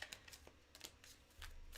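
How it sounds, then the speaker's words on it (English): A deck of tarot cards shuffled up close, quick soft riffling bursts and flicks in an uneven rhythm, quiet and alone. "I'm just going to shuffle this deck."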